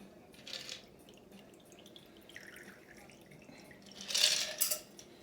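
Bourbon Gold Rush cocktail being stirred, with quiet liquid swirling and a few faint, sharp ice clinks, the clearest cluster near the end.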